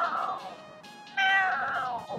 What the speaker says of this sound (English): What was that? Maybe a kitty?